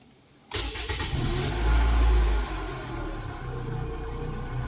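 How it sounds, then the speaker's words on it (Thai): A 2006 Toyota Vios with automatic transmission starts up after a short silence: a brief crank catches into a loud, steady idle, with a deeper surge in the middle before it settles into a smooth, even hum. "ลองฟังสตาร์ทเครื่องดูนะครับ"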